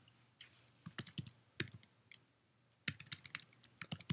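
Quick bursts of keystrokes on a computer keyboard, close and fairly quiet, coming in uneven clusters with brief pauses between them and no talking.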